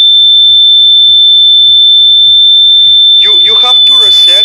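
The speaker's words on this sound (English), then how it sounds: "When a thief enters, the light targeting the photoresist will be blocked, allowing the passage of the voltage, and with the buzzer will sound." Photoresistor security alarm buzzer sounding, a loud, steady high-pitched tone held throughout, with rhythmic low knocking beneath and a voice talking near the end.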